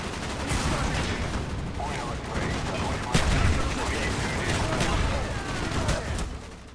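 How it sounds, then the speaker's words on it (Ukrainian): A tank fires on players in the Call of Duty: Black Ops video game, with steady, dense bursts of gunfire and explosions going on throughout, including a heavy blast near the middle, under game noise and occasional voices. "Ми не встигаємо вибігти, просто ну, зразу розстрілює танк."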